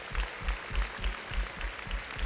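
A church congregation claps in a steady rhythm, about eight even beats of close, moderately loud applause with no talking.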